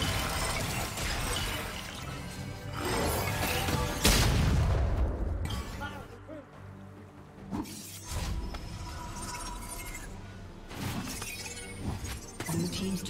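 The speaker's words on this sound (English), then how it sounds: "team's turret has been destroyed." A turret crumbles in League of Legends with a sharp crash and booming rumble, followed by shattering debris and clattering ability effects, under continuous game action.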